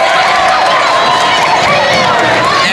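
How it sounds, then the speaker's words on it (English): Home crowd at a Lancers basketball game cheering in a steady, dense roar that fills the whole stretch without breaks, loud and close, with voices blending into the noise. "And this Lancers crowd is letting them know"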